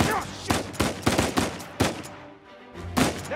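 Gunfire in the video game Uncharted 4: A Thief's End, a ragged series of sharp, loud shots in uneven bursts with a short lull before a final cluster.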